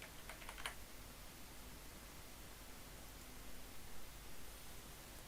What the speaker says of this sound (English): You can start typing either email or phone number or